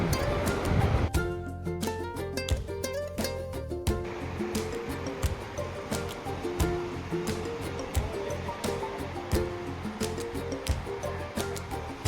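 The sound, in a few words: sea waves on the beach at Mandarmani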